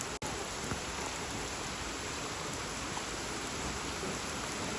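Heavy rain falls steadily as a broad, even hiss, close and continuous, with no voices heard while children bathe outdoors in the downpour.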